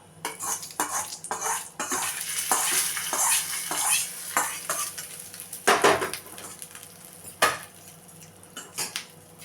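Mustard seeds and curry leaves crackle and spit as a hot tempering is poured into a spicy chutney, with clinks of a metal spoon and pan scraping in irregular bursts, close by and moderately loud, no talking.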